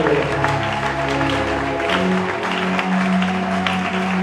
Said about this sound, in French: Acclame très fort pour le roi.